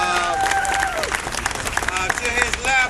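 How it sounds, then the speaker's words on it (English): A crowd at a press conference for a rally applauds briefly with scattered cheers, clapping rising and falling under overlapping voices throughout. "Give him a round of applause"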